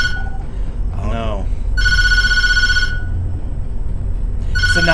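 Telephone ringing in a horror video game, two loud electronic trill bursts with a third starting at the end, while someone talks briefly between them over a low ambient rumble.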